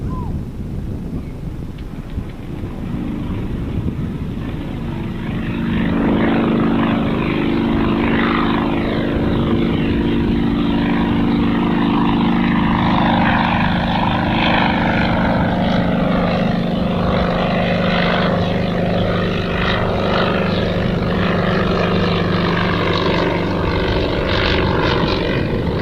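Yak propeller aerobatic plane flying past at Gold Coast Airport, its engine drone swelling from a distant hum to a loud, sustained roar with shifting pitch as it passes overhead, with wind buffeting the microphone.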